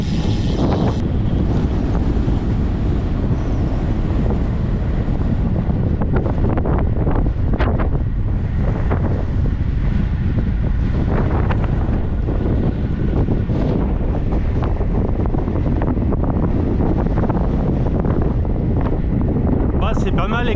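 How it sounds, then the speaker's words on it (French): Strong wind buffets the microphone on an exposed mountain road near the Col de Rousset during an ultra-distance cycling race, a loud continuous roar that fills the whole stretch. "C'est pas mal exposé au vent"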